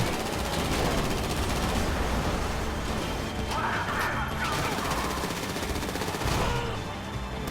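Rapid automatic gunfire in the video game GTA V, dense continuous bursts of shots with crashes layered through, loud and sustained throughout.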